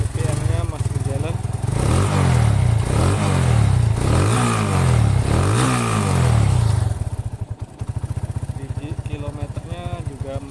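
A 2005 Honda Megapro motorcycle on its original stock exhaust revs loudly, rising and falling about five or six times in a row, then settles into a lumpy, rhythmic idle up close.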